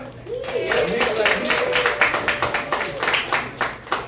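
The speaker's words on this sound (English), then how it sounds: "one last round of applause for your bar staff" An audience at a comedy show in a tap house claps for the bar staff, with a rhythmic run of claps that builds steadily while a host's voice carries over the top.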